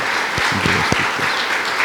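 A church congregation claps to welcome a family during a service. The applause is a brief, dense, steady burst of many hands close by.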